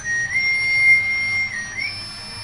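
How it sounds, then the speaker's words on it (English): A steady electronic whistle tone from a Proto Man Proto Buster replica toy blaster, holding one pitch with a brief wavering dip near the end, sounding alone. "the activation sound is Proto Man's trademark whistle."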